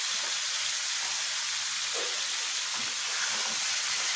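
Yogurt-marinated chicken frying in a pan over a full gas flame, a steady broad hiss and sizzle running evenly throughout with no talking.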